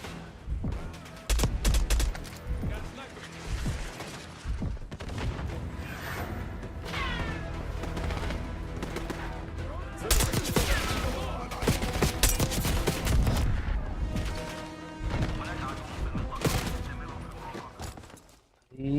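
Gunfire erupts in Call of Duty Black Ops 6 during an Iraq campaign mission, with bursts of rapid shots, automatic volleys and thuds over several seconds, and a voice speaks amid the firefight.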